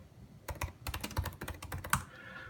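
Quick bursts of key clicks on a 2016 MacBook Pro keyboard, close and crisp, with uneven typing rhythm and a brief pause near the end.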